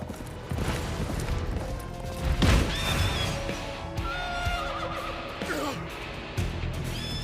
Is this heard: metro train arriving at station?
no